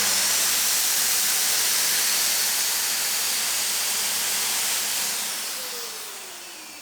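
A Wagner XVLP 5000 FinishControl paint sprayer runs with its turbine turned up to full, giving a loud, steady airy hiss close by that eases off slightly near the end.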